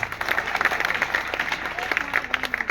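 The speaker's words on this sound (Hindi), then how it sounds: "एक बार उनके लिए जबरदस्त तालियां।" Audience applause at an open meeting in Manesar, a dense crowd clapping steadily for under three seconds with some voices mixed in.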